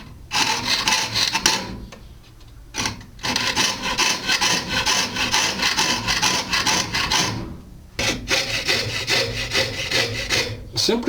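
Jeweler's saw cutting through lubricated metal sheet, a loud steady rasping stroke rhythm alone with brief pauses near 2, 3 and 8 seconds.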